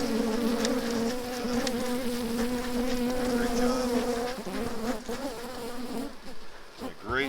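Honeybees hum loudly in a steady, close drone at an opened hive during a queen-rearing hive split, with a few brief louder buzzes as individual bees pass nearby; the hum thins slightly toward the end.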